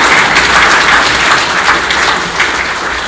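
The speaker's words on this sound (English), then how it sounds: "I want you to give them a round of applause" An audience applauds students at an academic speaker event, with steady, dense clapping filling the whole stretch at a loud, even level.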